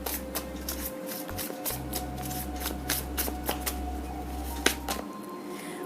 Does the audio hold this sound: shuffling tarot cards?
yes